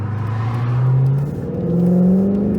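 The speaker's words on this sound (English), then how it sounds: "We're gonna aggressively accelerate." A Dodge, Chrysler, Jeep or Mercedes vehicle with an automatic transmission in manual shift mode accelerates hard on a highway, its engine revving up steadily, dropping briefly at a gear change, then climbing again, loud and close with no talk.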